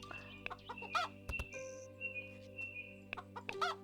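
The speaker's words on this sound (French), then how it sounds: "J'ai tué un poulet spécial." Chickens cluck and squawk in the Ranch Simulator farm game, repeated short clucks over a steady low hum of game ambience, with a brief higher tone and light clicks.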